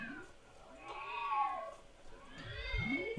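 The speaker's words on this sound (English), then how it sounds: "you should hear a very weird cat meowing" A cat meows twice with a strange warbling, pulsing quality, its voice wavering up and down in loudness. No other sounds.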